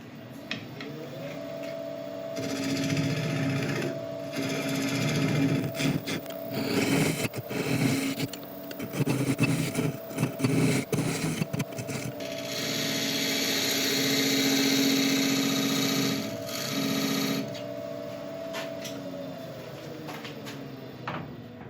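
A steady motorized whir of a wood lathe runs throughout, with broadband scraping and cutting noise rising and falling as a tool cuts a recess into a spinning natural-edge elm burl bowl.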